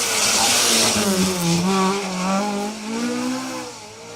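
A rally car accelerates hard out of a corner on a forest stage with its rear end sliding, the engine revving loudly in rising, stepped pitches as gears change, close and dominant.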